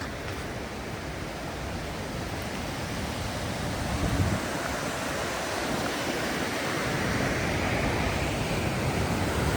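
Falls Creek waterfall at Milford Sound, New Zealand, a dense unbroken roar of falling water, loud and steady with no voices.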